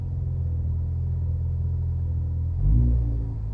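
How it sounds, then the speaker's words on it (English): A Ford Focus ST engine with Damond motor mounts idles with a steady low rumble, then revs briefly near the end, a short swell of engine sound standing alone. "the car doesn't feel like it's moving as much when you rev it."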